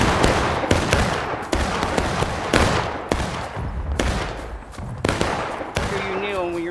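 Rifle volleys crack out in War of Rights, a Civil War line-battle game, with about eight sharp, loud bursts of massed musket fire in uneven succession and faint voices and tones under the last shots.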